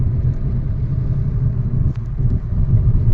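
Vehicles driving on a road through hilly, quarried terrain, a loud continuous low rumble of passing traffic close by, with no voices.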